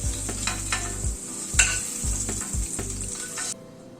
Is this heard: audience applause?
no